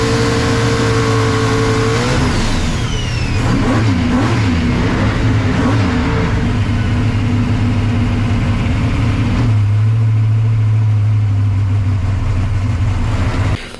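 Car doing a rolling burnout, the engine revving hard and climbing in pitch as the rear tires break traction and spin, then settling into a sustained loud drone after shifting into high gear, close and continuous.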